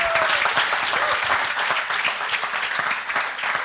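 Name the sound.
audience applause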